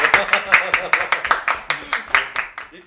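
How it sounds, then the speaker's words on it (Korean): Clapping from a small group at an internal company marketing study lecture, a handful of distinct, fairly close claps in an uneven rhythm over about three seconds, fading out at the end. "박수!"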